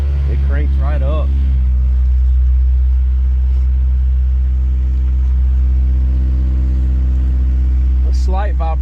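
A 1996 Honda Civic hatchback with a swapped JDM B20B engine cranks and settles into a loud, steady low idle with a slight vibration, and a voice speaks briefly over it at the start and near the end.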